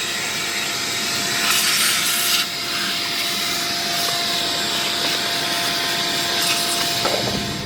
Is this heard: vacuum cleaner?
yes